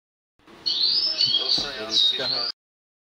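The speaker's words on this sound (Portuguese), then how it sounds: "Os passarinhos tá cantando, é o sanhacinho que tem aqui em casa aqui." A sayaca tanager sings at home in a bright, high twittering phrase that runs for about two seconds, heard close and fairly loud against a quiet background.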